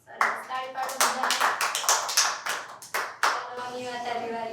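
Children at an anganwadi clap together in uneven bursts of hand claps, close and lively, while a teacher's voice speaks over them.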